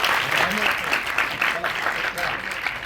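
An audience applauding at a theatre show at Jaihind Talkies in Lalbaug: a dense, steady patter of many hands clapping together at moderate distance, with faint voices mixed in underneath.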